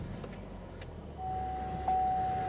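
A 2014 Buick Verano Turbo engine starting by push button: a quiet cabin, then a chime tone and a rise into a steady low idle hum, fairly faint.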